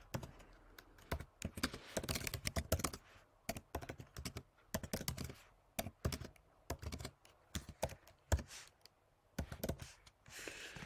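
Fingers typing on a computer keyboard, quick irregular bursts of close, crisp key taps separated by short pauses, quiet and alone with no voices.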